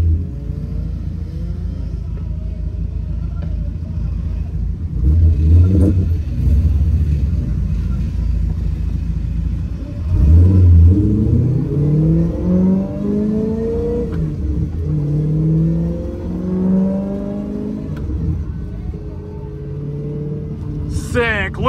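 Retro 1970s to 1990s race cars pull away from the starting line at a track day in rural Thailand, with loud engine revving and rising acceleration sweeps, several cars passing close, under continuous talk.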